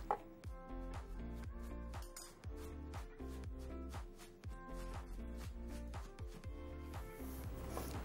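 A knife slices romaine hearts into julienne strips on a cutting board, producing a fast, steady series of crisp chops that sound close and clear and run without a break.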